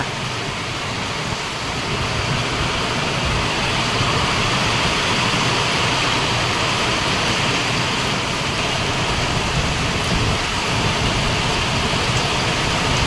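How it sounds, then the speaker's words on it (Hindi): Heavy rain pours steadily in Puri, a dense, loud, unbroken hiss that lasts throughout with no voices over it. "वर्षा माने सांघातिक वर्षा हो"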